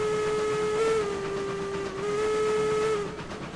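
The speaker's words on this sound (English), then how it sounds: "Clackety clack, there's a train on the track." Eureka steam locomotive in the video game Railroads Online, heard as a steady, loud steam whistle tone with hiss underneath, sustained for about three seconds before easing off, with no talking.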